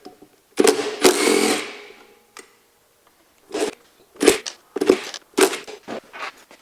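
Screws are being backed out of the cutterhead of a DeWalt DW735 planer, with short bursts of whirring driver and metallic grinding separated by pauses, close and loud with no talk.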